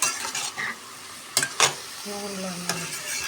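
A spoon stirs shredded cabbage frying in oil in a home kitchen pan, soft sizzling broken by a few sharp scrapes and clinks, with a brief hum of a background voice.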